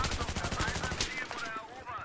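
Rapid bursts of machine gun fire in Battlefield 3, a fast rattling rhythm that eases off midway, with a voice talking underneath.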